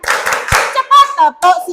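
Children clap their hands in a clapping game, with a few sharp claps near the start, then chanting voices that carry the rhythm.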